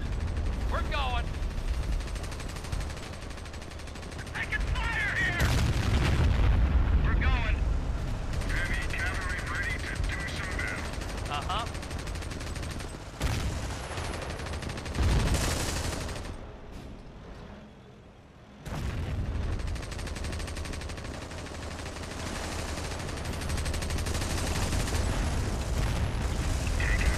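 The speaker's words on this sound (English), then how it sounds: "These guys keep firing into each other since you haven't been close to them" Tanks and guns firing in the World War II strategy game Company of Heroes, a Europe at War mod: dense bursts of gunfire and heavy booms layered over rumbling battle noise, with a brief lull near the end and voices talking over it.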